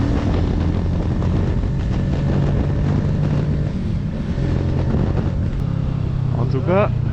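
A Kawasaki Ninja 650 40th Anniversary Edition motorcycle pulls steadily in fifth gear, its engine droning continuously under heavy wind rush with no pauses.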